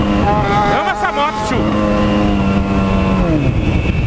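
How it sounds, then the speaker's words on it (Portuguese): A passing motorcycle engine on a road with car traffic, revving and shifting pitch loudly up close before settling into a steady drone, with a voice talking over it. "Essa moto é foda, moleque."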